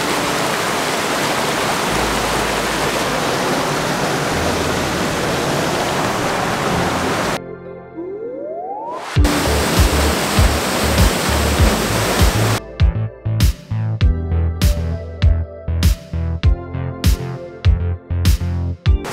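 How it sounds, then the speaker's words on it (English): A natural waterfall roars as a dense, steady rush of falling water that fills the sound for several seconds, then cuts off abruptly before returning amid sharp rhythmic clicks and thumps. "I love waterfalls and I wanna get closer."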